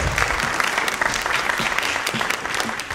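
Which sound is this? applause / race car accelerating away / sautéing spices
applause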